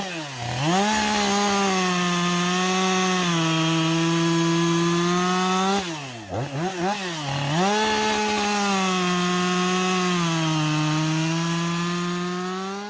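A Husqvarna 562 chainsaw with running problems runs steadily and loudly nearby, dipping briefly mid-way as the throttle drops and sputters, then picking back up to a constant buzz.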